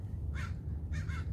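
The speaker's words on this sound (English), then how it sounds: "Yes, I hear you, crows." Crows caw in a garden in December, two bursts of harsh calls at moderate distance, the second a double caw, over a steady low background rumble.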